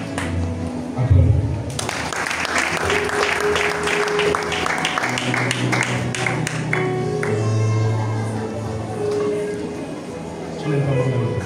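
Congregation applause at a prophetic church service breaks out after a quieter opening and carries on as a continuous wash of clapping beneath a talking voice, easing slightly before rising again.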